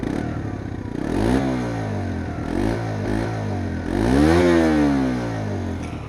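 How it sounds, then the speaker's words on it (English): A stock-exhaust Suzuki GSX S125 motorcycle revs up and accelerates through the gears in several rising sweeps, loud and close, with buffeting wind noise throughout. "Stock sound of the Suzuki GSX S125. Bear in mind there is wind noise"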